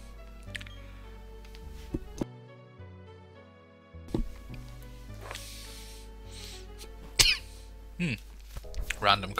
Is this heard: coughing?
yes